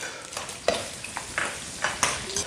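Ginger, scallion and fermented black beans dropped into rendered pork fat, crackling and sizzling close up with scattered scraping stir strokes and small pops, no voices.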